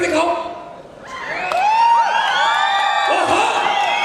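At a recognition program in Jaipur, an excited crowd whistles with shrill, rising and falling whistles over general cheering and shouting. Faint clapping may sit underneath.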